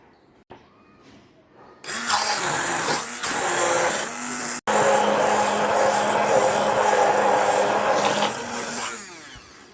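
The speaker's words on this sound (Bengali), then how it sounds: "এখন আমি ব্লেন্ডার করে নেব" An electric blender grinds soaked lentils, rice and prawns with a little water, starting with a few brief bursts and then running in a loud, steady whir that stops with a short break and resumes before winding down.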